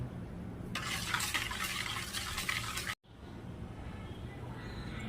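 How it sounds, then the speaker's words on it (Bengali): Batter for a homemade muffin cake, made with flour and boiled-then-cooled milk, stirred in a bowl: steady scraping and swishing for about two seconds, then a brief break and softer mixing continues. "এবার এই সব মিশ্রণগুলো খুব ভালোভাবে মিক্স আপ করে নিতে হবে।"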